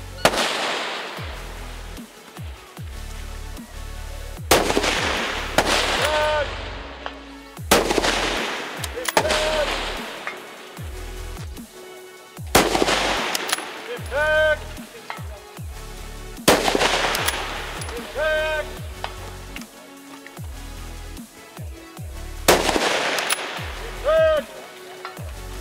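Rifle gunshots at a long-range shooting event, roughly five loud, sharp cracks spaced several seconds apart, each followed by a long echoing tail, with people talking between shots.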